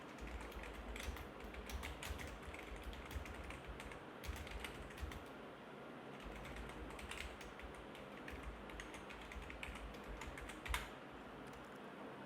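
Text is typed on a computer keyboard, a quiet series of close, irregular key clicks and taps in short bursts over a low steady background hum.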